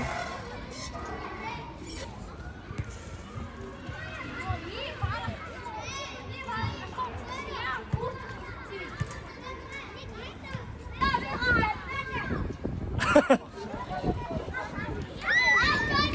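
Mongolian children play and chatter at a playground with a swing, their high voices overlapping in a busy, lively stream of talk and shouts, with adults speaking nearby.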